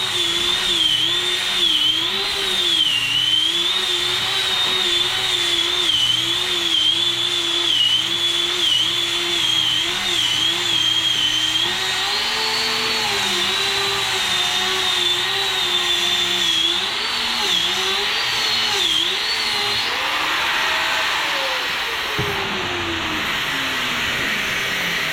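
An Ingco angle grinder runs continuously at a loud, steady whine near a workshop, with its pitch wavering slightly as load changes before it begins winding down near the end.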